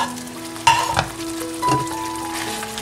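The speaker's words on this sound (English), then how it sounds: "my gravy has come to a boil and I'll add in my fritters now" Semolina fritters dropped into a pan of boiling gravy for a vegetarian rawa curry, giving a couple of sharp splashy clatters over a steady bubbling, simmering background, close and moderately loud with no talking.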